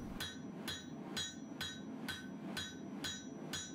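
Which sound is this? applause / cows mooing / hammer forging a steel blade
hammer forging a steel blade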